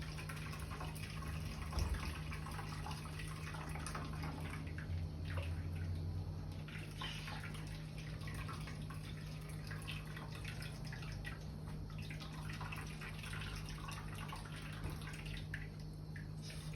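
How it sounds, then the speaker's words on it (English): Walnut milk squeezed from a cloth bag trickles and drips steadily into a bowl, a continuous wet splashing that stays close and even under a low background hum, with no talking. "you just basically squeeze out the milk"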